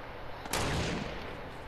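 A single loud gunshot in a video game lands near 0.5 s, a sharp broadband crack that decays into a rumbling tail lasting about half a second over steady background noise.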